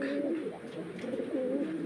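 A pigeon coos in repeated soft, throaty rolling notes, fairly close and alone.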